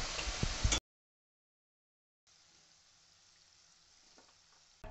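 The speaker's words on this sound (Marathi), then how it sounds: "आता बाकीचे राहिलेले सर्व बटाट्यांचे पीस मी असे तळून घेणार आहे।" Potato slices frying in hot oil for a cashew potato bhaji, a steady broadband sizzle, loud at first, then cutting out before returning more quietly and continuing evenly.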